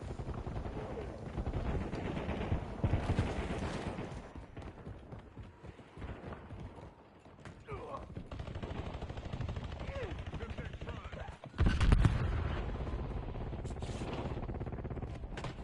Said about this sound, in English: This is the first time I've ever played the game, which is why I keep shooting at you.